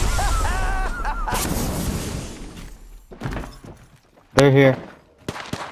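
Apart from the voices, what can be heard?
gunfire in the video game Apex Legends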